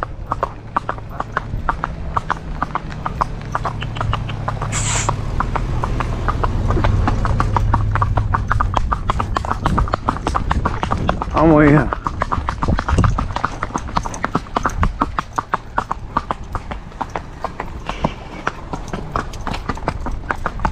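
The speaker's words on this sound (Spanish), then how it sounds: "Cansadita, ese caballito ahí." Horse hooves clip-clopping in a steady, brisk rhythm, loud and close, continuing throughout with a brief burst of background noise partway through.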